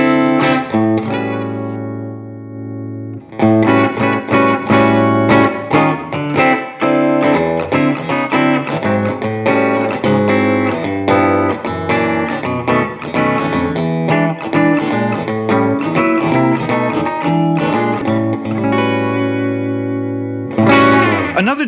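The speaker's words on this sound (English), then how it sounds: "Let me dial up a straight up clean sound here. We'll do like a Vox setting here." A 2019 Gibson Les Paul Jr. DC Tribute electric guitar plays through a Strymon Iridium on a Vox amp setting: a loud, busy run of picked chords and notes with some effects sheen, pausing briefly before continuing.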